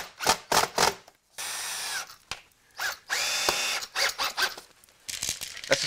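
Screws are driven into a 15mm carpet ramp shim with a power driver in several close, loud whirring bursts, broken by ratcheting clicks and handling noise.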